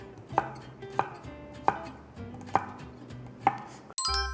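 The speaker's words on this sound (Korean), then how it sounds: "이 정도 크기로 썰어주시면 돼요." Eggplant being sliced with a kitchen knife on a cutting board, five crisp, evenly spaced chops sounding close and clear with no talk, ending in a brief louder clatter.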